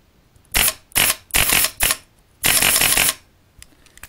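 A pneumatically framed Fasor Spyder VS2 paintball marker cycles in a series of short sharp bursts of air and mechanism, four quick blasts then one longer burping exhale, followed by faint clicks.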